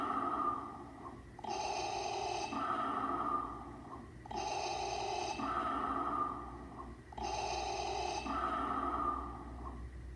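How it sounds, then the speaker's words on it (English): A Darth Vader Black Series helmet plays its electronic breathing effect: three slow mechanical inhale-exhale cycles, evenly paced, close and clear with no talking. "You get that really cool, awesome breathing effect right there"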